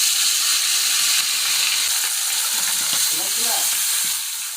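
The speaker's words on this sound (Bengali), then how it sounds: "মাছগুলোকে হালকা লালচা লালচা করে ভেজে নিব।" Koi fish frying in oil, a loud dense continuous hiss and crackle of sizzling close up, steady throughout and easing slightly at the end.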